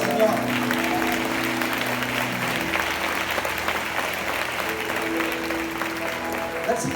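A church congregation applauds for the Lord, a steady wash of many hands clapping continuously throughout, with tonal music or organ tones sustained underneath.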